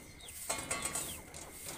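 Chickens stir at dawn with scattered, fairly faint clucks and rustling near a farmyard, several brief bursts over a steady background.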